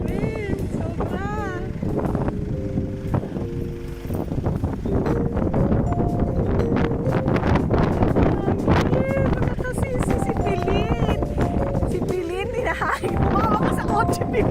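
Strong, gusty wind buffets a microphone outdoors at a farm in Bagac, Bataan, a constant low roar throughout with voices talking over it.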